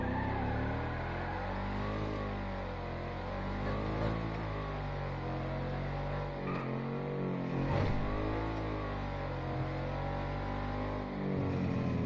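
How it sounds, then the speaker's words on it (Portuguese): A car accelerating in GTA V, the engine revving in a steady, continuous drone that rises and falls through gear changes at a moderate distance, with a couple of brief knocks partway through. "Ele foi e acelerou um pouquinho mais"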